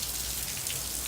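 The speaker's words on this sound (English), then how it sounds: "would you check out this rain we're having right now?" Warm summer rain pours down steadily, a dense even hiss of drops on surfaces with no breaks or voices.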